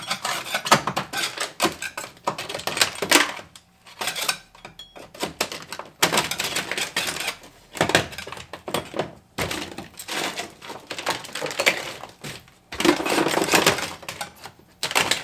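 Dry-ice-chilled sound deadening cracking and breaking off the steel floor of a Honda Civic, a run of close, loud brittle snaps, scrapes and clattering chunks in repeated bursts with brief pauses between.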